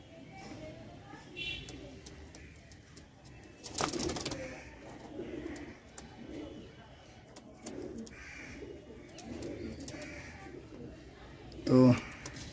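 Pigeons coo as they are let go, low throaty calls scattered through the stretch, with a person talking over them and a brief louder burst near the end.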